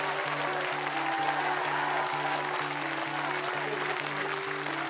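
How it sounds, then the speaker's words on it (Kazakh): Steady audience applause fills the space in a dense continuous patter under a sustained musical tone, at a children's blind-audition singing show. "Жақсылап бұл шапалақ соғып қойыңыздаршы"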